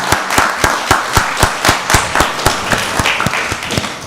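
Applause at a county board of commissioners meeting, rapid rhythmic clapping from a few people, fairly loud and close, with no speech over it.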